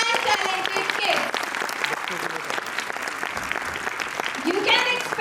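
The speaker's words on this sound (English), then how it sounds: "give a thunderous round of applause for our bright and talented kids" A crowd at a kindergarten annual function breaks into loud, sustained applause for the young children, dense clapping running the whole time, with cheering voices and shouts rising through it near the end.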